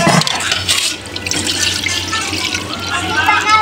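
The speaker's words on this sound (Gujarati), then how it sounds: "તમે ખાલી જલ્દી લોટો ભરી લાવો ને" Water pouring from a tap into a lota, a steady rushing splash close by, with voices talking over it.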